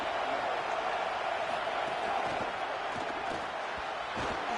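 A home crowd roars steadily in a college football video game between Penn State and Michigan, a broad distant stadium wash of cheering with scattered thumps beneath it.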